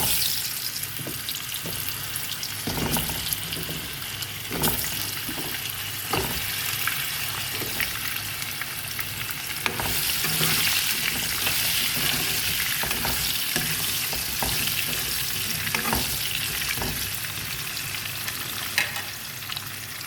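Potatoes and carrots fry lightly in a pan with a loud, constant sizzle and crackle, punctuated by intermittent stirring scrapes and clicks throughout.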